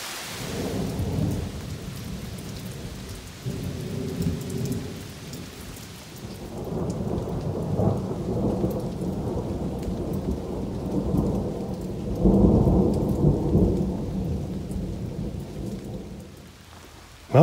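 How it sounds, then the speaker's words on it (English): Steady rain pours throughout with rolling thunder rumbling in low and loud, swelling in the middle and again near the end, with no voices present. "You hear some thunder too."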